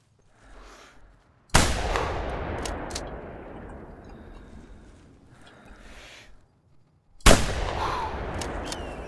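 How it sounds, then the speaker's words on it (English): Two loud shotgun blasts during an outdoor bird hunt, each a sharp crack followed by a long rolling echo, spaced several seconds apart with quiet woodland in between. "I'm just wasting shots right there"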